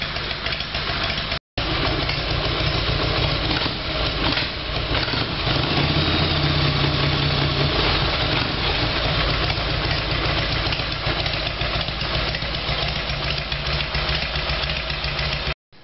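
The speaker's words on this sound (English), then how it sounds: "once it warmed up I let the choke off, and it seems to be running well" Harley-Davidson Evolution Sportster motorcycle engine idling steadily after a carburetor fix, a loud, close, continuous low chugging rumble that runs almost unbroken from start to end, with one brief dropout near the beginning.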